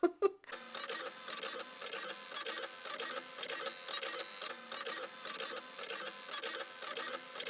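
An electronic cutting machine cuts labels on a mat with a steady, close mechanical whir and rhythmic motor buzzing, humming continuously and alone after a brief knock at the start.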